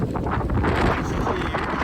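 Wind gusts buffet the microphone in a short, loud burst of rough rumbling noise, with no clear talk.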